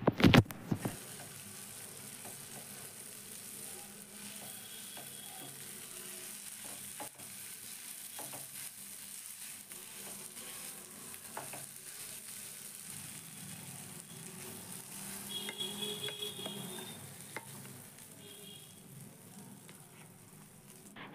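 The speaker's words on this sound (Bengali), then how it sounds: "তারপরে সব কিছু খুব ভালো করে মিক্স করে নিয়ে আমি এটাকে নামিয়ে নেব।" Potato, chili flakes and chopped coriander being stirred in a frying pan for a semolina and potato snack, with a steady sizzle under repeated scraping and stirring strokes throughout, close and moderately loud with no talk.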